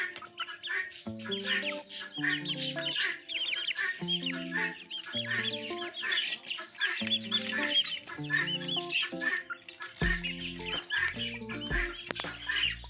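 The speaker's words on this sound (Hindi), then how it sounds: "अब देखो ये मुर्गियाँ निकलती हैं।" Several chickens and roosters cluck and chatter nearby in a busy, overlapping flock, with occasional louder squawks throughout.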